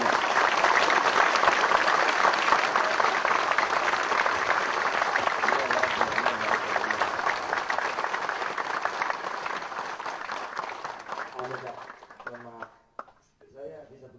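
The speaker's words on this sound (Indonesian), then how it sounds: "Saya ingin Anda tepuk tangan keras, panjang, penuh cinta" An audience at a religious gathering with Cak Nun and KH Budi Harjono claps loudly and continuously for about twelve seconds as a dense wash of hands, then the applause thins into scattered claps and fades out.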